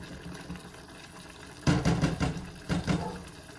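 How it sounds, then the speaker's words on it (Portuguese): Water from boiled cabbage (couves) is poured off and splashes into a sink, a sudden loud gush that surges and falls back in uneven waves after a quiet start, with no talking. "eu vou agora escorrer essas couves"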